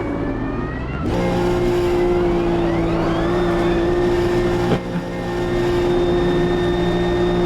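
A Nissan GT3 race car in the racing game AMS2 spins donuts, its engine revving hard and then holding a loud, steady high whine, with a brief dip partway before the revs climb again.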